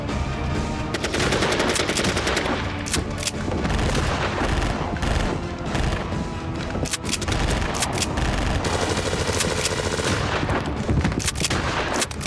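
Shotgun gunfire in a French crime film, a dense, loud barrage of repeated blasts and sharp reports running continuously with no talk.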